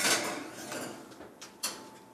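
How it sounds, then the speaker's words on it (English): A pan holding butter is slid into a preheating home oven, giving a few soft metallic clatters, scrapes and light knocks, quiet and close, with no talking. "So I'm just going to put this in my oven while it's preheating."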